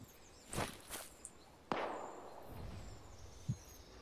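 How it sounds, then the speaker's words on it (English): Distant mortar fire in the military video game Arma: a few scattered muffled booms and sharp cracks over faint background, one heavier blast with a lingering rumble. "I also marked on the map the direction I can hear the mortar in."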